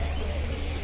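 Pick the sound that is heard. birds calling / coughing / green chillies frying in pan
birds calling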